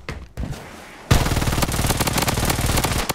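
Rapid automatic gunfire in a battle royale video game, sparse shots at first and then a loud, dense burst of continuous fire for about two seconds.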